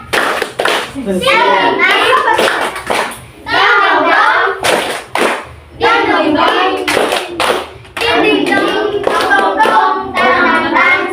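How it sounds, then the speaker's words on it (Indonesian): Children chant "Tepuk semangat" loudly together while clapping and thumping in a rhythmic spirit clap, voices and claps alternating in energetic bursts. "Tepuk semangat."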